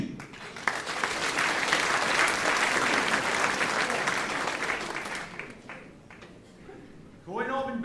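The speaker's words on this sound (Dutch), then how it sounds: "Dames en heren, geef ze een groot applaus." A crowd applauds a puppet show act with Billy and Willy at a Boontje Aovendj evening in Stramproy: steady, full clapping from a sizeable audience that fades after about five seconds, with a voice rising briefly at the end.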